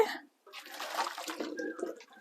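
Hot cooking water from boiled potatoes poured out of a pot, a steady close splashing gush lasting about two seconds after a brief pause.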